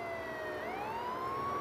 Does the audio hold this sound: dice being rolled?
no